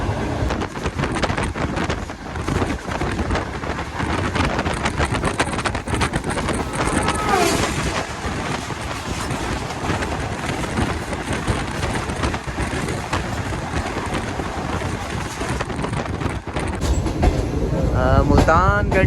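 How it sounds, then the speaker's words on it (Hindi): Shalimar Express passenger train running at about 105-110 km/h between Khanewal Junction and Multan Cantt, a steady loud broadband rumble and rattle with wind noise throughout, heard from inside the carriage. "खानेवाल जंक्शन से निकलने के बाद ट्रेन तकरीबन 105-110 की रफ्तार से भाग रही है"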